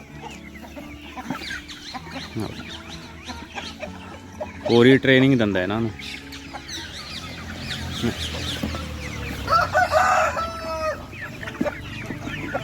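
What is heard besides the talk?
rooster clucking and calling chicks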